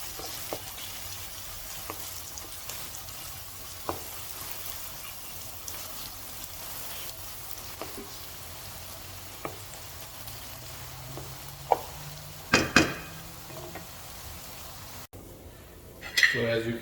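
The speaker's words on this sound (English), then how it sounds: "will add 2 medium-sized finely chopped onions. And saute it until it's golden brown" Two medium finely chopped onions sauté in a pan toward golden brown, giving a steady low sizzle with a few sharp utensil clinks and stirring scrapes near the end.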